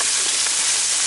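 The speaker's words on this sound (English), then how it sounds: "we're going to toss some onions around in there and let them pick up some of that goodies from the burger and the oil" Onions frying in oil and burger drippings in a Blacklock cast iron skillet, a loud, close, continuous sizzle with steady hiss and no talking.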